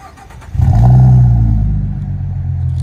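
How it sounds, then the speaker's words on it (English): A V6 car with an aftermarket exhaust cold starts: a brief starter crank, then the engine catches with a loud, close, deep rumbling flare before settling into a steady throaty idle. "Nice exhaust, man. That's an aftermarket exhaust. It sounds a lot better on a cold start."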